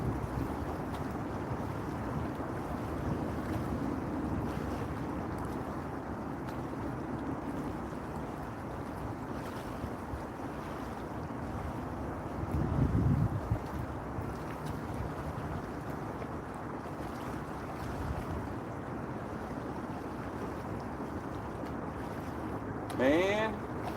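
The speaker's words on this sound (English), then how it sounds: "that wind is no joke" Strong wind blowing over a small fishing boat on open water during a catfishing trip: a steady rushing roar with low buffeting, a few brief thumps and knocks, and faint voices in the background.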